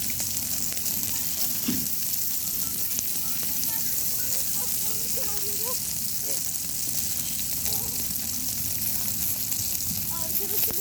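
Food sizzling and frying over a charcoal mangal grill, a steady close hiss running throughout with faint occasional crackles and stirring.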